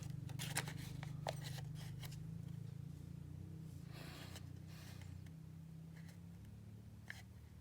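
Paper rustles and creases as a dollar bill is folded by hand for origami, with soft crisp crackles and short scrapes over a low steady hum.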